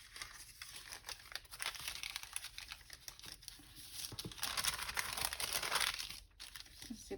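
Material being ripped apart by hand at a crafting table, a continuous close crinkling, tearing rasp that swells in the middle and ends abruptly.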